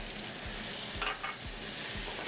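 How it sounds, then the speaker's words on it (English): Tomatoes sauté with caramelized garlic in a hot pan, a continuous loud sizzle broken by regular spatula scrapes about every half second. "We're gonna saute our tomatoes for a few seconds"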